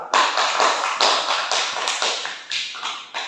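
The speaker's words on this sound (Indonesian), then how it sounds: "Beri aplaus untuk kelompok 2." Classroom applause for a student group, a dense burst of clapping hands with rhythmic swells, close and fairly loud, no voices over it.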